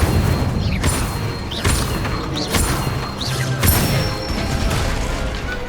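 Repeated Incendio fire spell casts in Hogwarts Legacy against a training dummy, a steady run of whooshing bursts and impacts roughly every second over dense background game sound.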